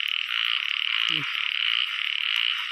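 Frogs croak in a steady, dense chorus outdoors during the first rain, with a brief lower croak standing out near the middle over a continuous high insect-like drone.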